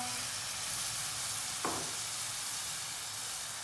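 Chilli sauce and white vinegar hit a hot pan of vegetable pasta sauce, giving a continuous soft sizzle with a brief sharper burst midway, close and quiet with no talking.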